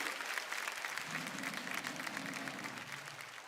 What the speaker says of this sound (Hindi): एक बार जोरदार तालियां रजत जी के लिए